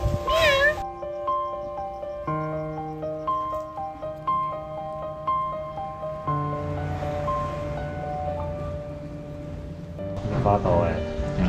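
A cat meows several times, loudly and close, at the start and again near the end, with a tonal musical backing in between.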